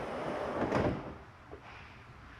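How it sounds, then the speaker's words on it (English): RV entry door with a slam lock on a 2022 Crossroads Redwood 3951MB fifth wheel swinging shut, a soft rushing movement followed by a light latch click, close and fairly quiet, no talking. "We'll close the door here and tell you that slam locks work best when gently slammed."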